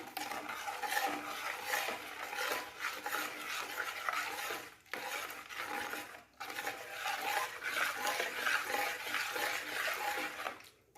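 Ginger-garlic paste is stirred into mango ginger pickle with cooled tempering, giving wet, rhythmic scraping and squelching that runs continuously, with two short pauses.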